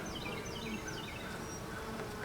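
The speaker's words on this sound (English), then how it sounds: "Happy bees" A dense, continuous hum of many honey bees buzzing close by at an open hive, steady and moderately loud, with no voices.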